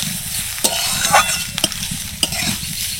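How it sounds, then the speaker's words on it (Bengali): Grated carrot and ginger fry in hot oil with a continuous loud sizzle, broken by several sharp scrapes and clinks as a spatula stirs the pan; no one speaks. "এটাকে ভালো করে একটু ভেজে নেব।"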